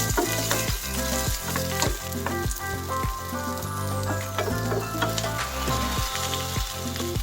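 Chopped tomatoes sautéing in a hot pan, a dense steady sizzle and frying crackle with occasional stirring scrapes and clinks of a utensil, close and continuous without any talking.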